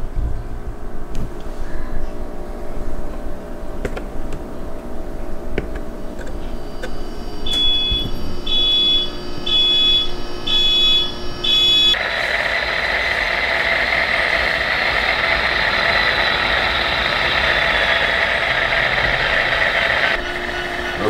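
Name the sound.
N scale model locomotive starting up on layout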